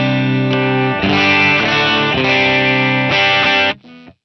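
A Telecaster-style electric guitar played through an HX Stomp amp preset, loud and distorted with chorus-like shimmer, strummed chords ringing steadily then cut off, leaving a brief fading tail.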